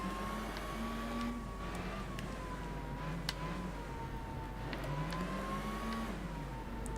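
A race car engine in Gran Turismo 4 drones steadily, its pitch dropping and climbing as it shifts from first to second gear mid-corner, with tyre and road noise underneath.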